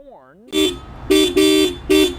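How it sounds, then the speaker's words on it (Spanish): A 1990 Lexus car horn honks four times in short bursts, the third blast held longest, loud and close after a brief warbling tone. "Otro detalle clásico de este coche era el claxon."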